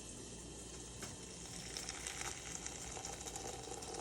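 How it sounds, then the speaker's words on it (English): Hot water poured over dried roses for rose tea, a faint, steady trickling stream running for several seconds with a soft bubbling fizz, quiet and continuous without any talk. "I'm gonna pour the hot water."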